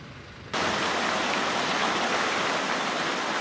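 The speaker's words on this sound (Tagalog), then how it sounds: "Hindi na halos tumigil ang buhos ng ulan sa Binalio Landfill, alas 12 pa lang ng hating gabi." Heavy rain pouring down on the collapsed Binaliw landfill at night, a dense, steady roar of hiss that starts abruptly after a quieter opening and stays loud and unbroken.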